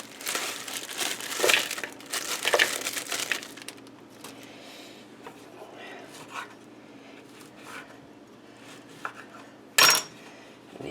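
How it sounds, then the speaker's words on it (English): Frozen onions tipped into a slow cooker pot for a turkey dinner, a few bursts of rattling, crinkling clatter, a quieter stretch of scraping and knocks, then one sharp loud clatter near the end. "We're going to put in our frozen onions."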